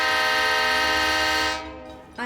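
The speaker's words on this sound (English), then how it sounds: "Train horn." A loud sustained train horn blares close by, a rich steady chord holding for about a second and a half before cutting off and fading into quiet.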